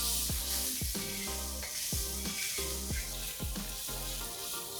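Sliced onions with salt crisping in hot oil in a pan for Sindhi bhuga chawal, a constant bright sizzle with a rhythmic series of sharp scraping strokes, close and steady without talk.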